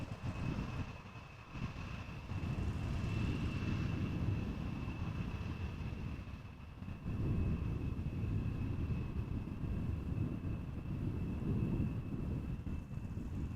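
An Embraer jet arrives at Amsterdam Schiphol Airport, a steady distant engine roar that swells and holds with a faint whine above it, and no talking.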